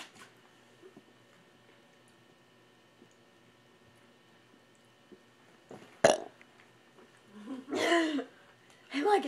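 A person burps close up in a quiet room: one sharp, abrupt belch, then a longer, rumbling burp a moment later, with a short throaty noise closing the clip.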